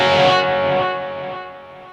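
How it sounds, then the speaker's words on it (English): An electric guitar chord through a BOSS eBand JS-10 rings out bathed in reverb set at level 70, its wash of sound slowly decaying over a couple of seconds. "So here's the reverb on at 70 level."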